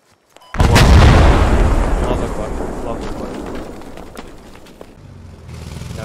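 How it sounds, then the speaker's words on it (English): A mortar round in the military shooter game Squad lands with a sudden loud, close blast, then a long rumbling roll that slowly fades while faint birdsong carries on. "Those are mortars."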